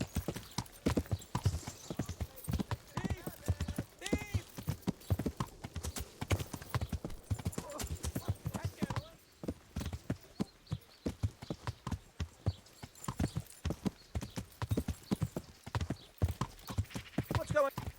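Horse hooves clip-clop in a steady, rapid rhythm throughout a medieval riding scene in Kingdom Come: Deliverance, close and continuous, with an occasional whinny and voices speaking over the trotting.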